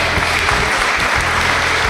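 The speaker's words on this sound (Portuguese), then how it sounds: "Um aplauso para esse grande amigo meu" An audience at a country music show claps loudly and continuously in a dense, close wash of applause for a friend brought up front.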